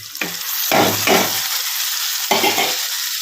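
Boiled potato and carrot pieces are stirred into a sizzling egg curry in a pan, with three or four separate scraping stirs over a soft background fry.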